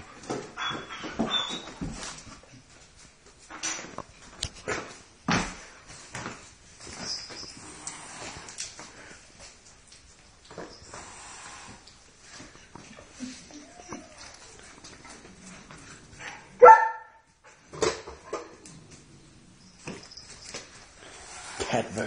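A dog barks and whimpers in short, scattered bursts, some sharp and loud, during a mock cat-versus-dog fight, with quieter rustling and movement between the calls.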